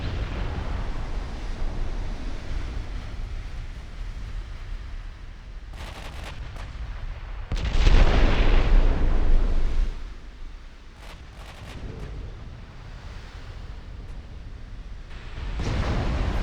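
16-inch HE shells striking a battleship in Ultimate Admiral Dreadnoughts, heard as a series of booming impacts and explosions with one big, sustained rumbling blast midway amid continuous low naval battle noise.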